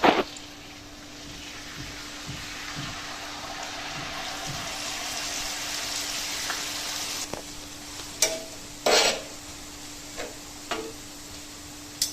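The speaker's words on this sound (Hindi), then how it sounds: "इसको तकरीबन 2 मिनट लगेंगे फ्राई होने में" Jalebi batter fries in a large, full-size pan of hot oil, a steady soft sizzle running throughout with a few sharper clatters and taps near the end.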